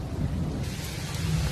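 Thunder rolls loud and continuous through a backyard storm, a deep sustained rumble with rain hiss on top, steady for the whole stretch with no voices.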